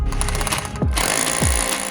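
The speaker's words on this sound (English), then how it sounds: "This is a hammer drill." A Milwaukee hammer drill pounds into a garage's concrete floor with a loud, rapid, continuous rattling hammer, close by, with two brief dips in pitch as the bit is worked.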